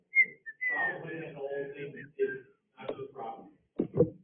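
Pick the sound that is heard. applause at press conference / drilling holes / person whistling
person whistling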